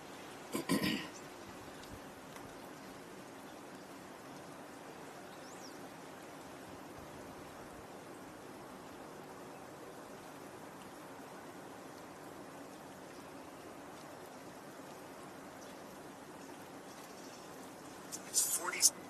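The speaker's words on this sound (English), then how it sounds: "It's 47 degrees apparently, and lightly raining." Light rain falling outdoors, heard as a faint, steady hiss throughout, with brief handling knocks near the start and end.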